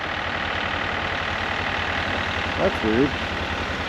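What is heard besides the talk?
tractor engine running in the background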